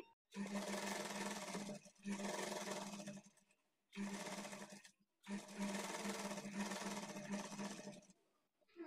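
A sewing machine stitches the side joint of a blouse, running in long steady bursts with short pauses between them, close and loud.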